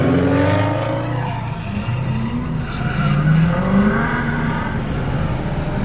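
A 500 whp Subaru STI spins out on a track, its engine roaring continuously while the tires squeal and skid loudly throughout, with no talking.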